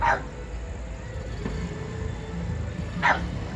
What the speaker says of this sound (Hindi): तो अब भौंक रहा है क्योंकि पटाखों की आवाज़ हो रही है।